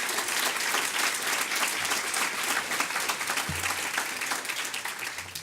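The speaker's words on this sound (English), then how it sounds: "Let's give C&M and that team a round of applause" An audience at a Nashville Collective Impact Forum gathering applauds the C&M team, giving sustained, dense clapping at an even level that tapers a little near the end.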